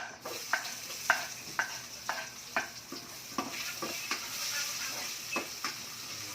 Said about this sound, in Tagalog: halo-haluin muna natin yung bawang para bumango siya